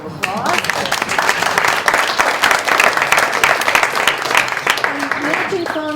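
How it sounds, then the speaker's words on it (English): Rally crowd in Arizona breaks into sustained applause for a 2016 political campaign event, many hands clapping loudly and close with cheers and voices mixed in throughout. "So I want to give you a round of applause."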